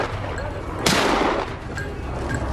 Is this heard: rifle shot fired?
yes